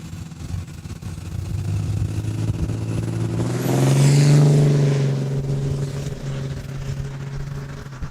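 A Dodge 2020 Ram 2500 pickup launches down a drag strip, its engine roar swelling to a loud peak as it passes midway, then fading into a steady drone.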